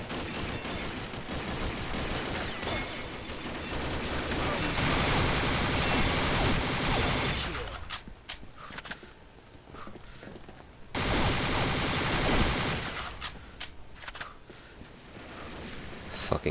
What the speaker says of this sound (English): I always misjudge how, just exactly how fast the CZ Scorpion fires.